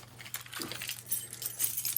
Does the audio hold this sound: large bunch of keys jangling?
yes